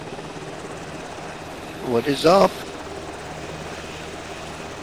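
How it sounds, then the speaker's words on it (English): Helicopter rotor noise in an Arma II military game as the aircraft lifts a Humvee that tows a second Humvee, a steady drone running throughout while someone briefly speaks over it mid-way. "A helicopter is lifting a Humvee that's towing another Humvee."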